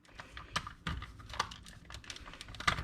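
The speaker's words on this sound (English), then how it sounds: "So, click everything back in." The shell parts of a PS4 Pro controller snap back together after a battery replacement, producing a close series of sharp plastic clicks with brief pauses between them.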